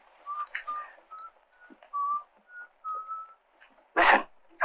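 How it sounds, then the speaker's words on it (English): A person whistles Yankee Doodle, a bright, simple tune in short separate notes, followed by a sudden burst of noise near the end. "Listen, somebody's whistling Yankee Doodle."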